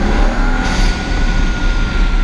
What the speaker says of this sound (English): just touch the accelerator and get that little blow off sound